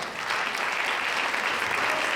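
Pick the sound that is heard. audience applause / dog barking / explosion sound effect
audience applause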